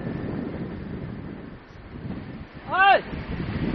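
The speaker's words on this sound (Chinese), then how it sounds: "快艇在波动的湖面上行驶了一段之后，来到了一处芦苇荡附近" A speedboat runs across a choppy lake toward a reed marsh, its steady droning rumble blended with wind buffeting and water wash, with one brief high chirp near the end and no voices.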